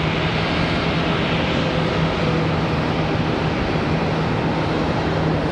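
An American Airlines Boeing 737-800 jet departing Charlotte Douglas airport gives a loud, steady broadband roar with a faint low hum, continuous for several seconds and heard alone.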